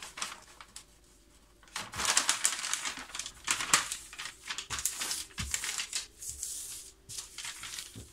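Plain paper gift wrap is folded and creased for a bouquet, giving loud, close crinkling and crackling that runs almost continuously after a short quiet start, with no talking.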